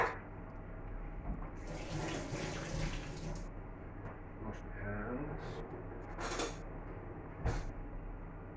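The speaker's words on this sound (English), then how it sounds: "Wash my hands." Tap water runs steadily into a sink while hands are washed, a soft continuous splashing with a few brief louder bursts as the flow shifts, fairly close but quiet.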